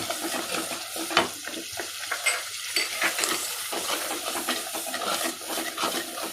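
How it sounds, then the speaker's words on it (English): Chili and turmeric powder sizzle and fry in hot oil for a fish curry, with steady stirring scrapes and clinks over a continuous close crackle. "we are continuously stirring it in the oil nicely"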